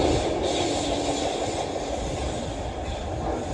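A Class 350 and a Class 390 train running side by side into London Euston make a steady rumble of wheels and rolling stock, loud and continuous with no voices.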